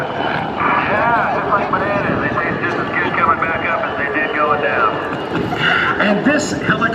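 Loud, close helicopter rotor thumps in a steady rapid chop with engine whine, while a voice talks over it throughout.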